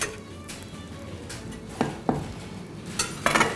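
Several clattering metallic knocks and clinks of tolma cabbage rolls set into a pot, spaced out over a few seconds, with a soft kitchen background and no talking.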